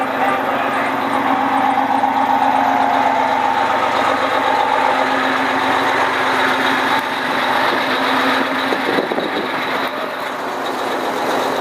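A fire truck engine idles loudly and steadily for a USMMA class fire truck pull, a continuous rumbling drone with faint background voices from the crowd.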